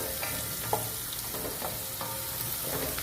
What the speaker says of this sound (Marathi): कांदासुद्धा आपल्याला लाल रंगाचाच परतायचा आहे तो लाल रंगाचा होईपर्यंत जरा आपण ढवळूयात सतत ते कांदा